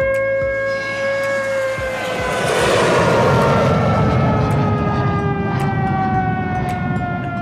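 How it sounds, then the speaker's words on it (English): An air raid siren sound effect plays in an exhibit at Coventry Transport Museum: a loud, wailing multi-tone howl that slowly slides in pitch over a low rumble, continuous and close for the whole stretch. "With sound effects of air sirens,"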